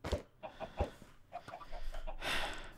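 A chicken in the Minecraft video game gives several short, soft clucks in an uneven rhythm. A louder burst of game noise follows near the end.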